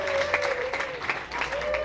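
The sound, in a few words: wedding guests applauding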